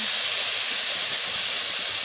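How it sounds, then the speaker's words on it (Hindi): Water is poured into a pan of spiced kair vegetable masala, a steady, close hiss and sizzle that runs evenly throughout with no talk over it. "इसमें हम थोड़ा सा पानी डालते हैं"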